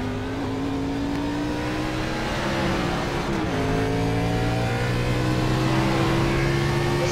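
A NASCAR race car engine roars loudly and close on its first lap, the pitch climbing steadily as it accelerates, easing briefly before rising again with no talk over it.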